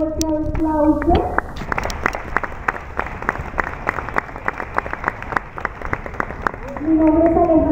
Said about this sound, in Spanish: démosle la bienvenida, por favor, con un fuerte aplauso